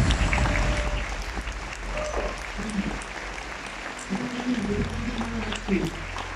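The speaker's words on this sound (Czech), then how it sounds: "zatleskejte si prosím," A convention crowd at a comic-con applauds its organizing team, sustained clapping with talk and voices rising through it, fairly loud and close.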